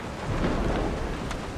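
Deep, rolling thunder rumbles steadily from a storm in Resident Evil 7, loud and continuous over a wash of rain and broadband noise throughout.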